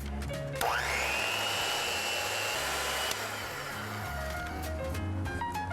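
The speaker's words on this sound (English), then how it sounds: "I need to grab my mixer. So now we're going to blend these ingredients." An electric hand mixer creams butter, white sugar, an egg and vanilla for browned butter sugar cookies: a steady, close motor whine kicks in after a brief pause and runs without a break to the end, with no talking.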